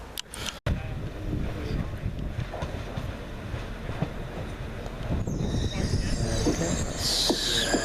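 Train unit 197026 pulls into the station at Andania, its steady rumble and rolling wheel noise building up close, with high metallic wheel squeal rising over the last couple of seconds as it slows.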